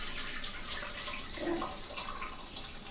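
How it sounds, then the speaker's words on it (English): Tomato juice poured through a large stainless steel strainer, a soft steady trickle and splash of liquid, close and fairly quiet. "I'm simply going to pour this juice through the strainer"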